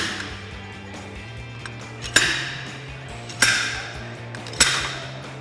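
Slide hammer pulling out a rear Dana 44 axle shaft on a Jeep Wrangler JK: three sharp metallic clanks about a second apart, each ringing briefly over a low steady hum.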